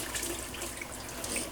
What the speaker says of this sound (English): I'm gonna dump out some more of this water in the sink really quick.